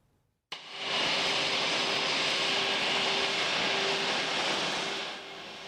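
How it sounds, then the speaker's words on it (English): A passenger plane takes off from Meadows Field, an Airbus 319 replacing a CRJ-900, its jet engine roar rising suddenly and then holding a loud, steady broadband rush with a faint tone before easing slightly at the end. "Meadows Field will have a larger plane taking off"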